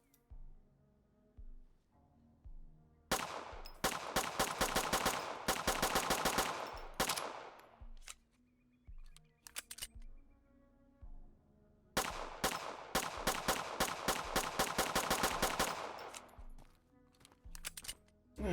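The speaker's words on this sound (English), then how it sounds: "It just feels like a pistol. It feels snappy. It's like boom, boom." Glock pistol fire in the survival shooter Road to Vostok: two long bursts of rapid, snappy gunshots, each lasting several seconds, loud and close, separated by a quieter gap with faint background sounds.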